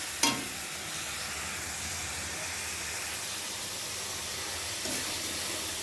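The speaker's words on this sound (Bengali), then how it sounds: "চিংড়ি মাছ হবে, চিংড়ি মাছের রান্না করছে" Shrimp sizzling and frying in a pan, a steady dense hiss from start to end with a couple of brief clinks or stirring bumps, no talking.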